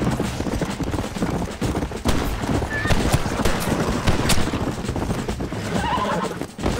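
A horse gallops in Red Dead Redemption, a rapid run of hoofbeats mixed with a whinny, loud and dense under a busy layer of game sound.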